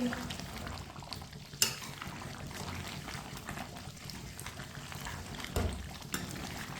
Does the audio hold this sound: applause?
no